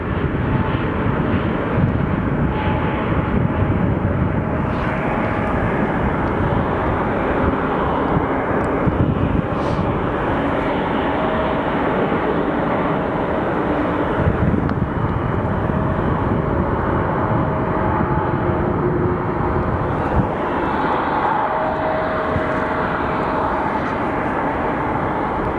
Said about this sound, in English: There's the Queen, my friends. UPS Airlines 747.